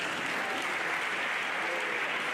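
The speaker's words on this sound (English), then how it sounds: "our colleagues in the Faculty of Agriculture need a round of applause" An audience at an academic lecture on smallholder agriculture gives a round of applause, a soft, steady wash of many hands clapping evenly without pause throughout.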